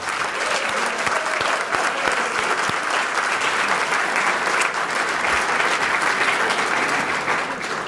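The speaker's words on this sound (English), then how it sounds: "Now I'd like to first introduce Al, you got a cheering crowd here, Al." An audience at a Hall of Fame induction ceremony applauds steadily, dense continuous clapping with some cheering that stays loud and even from start to finish.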